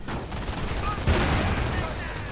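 An MG42 machine gun fires in a World War II strategy video game as a dense, continuous roar of shots, mixed with other battle noise and a loud burst partway through.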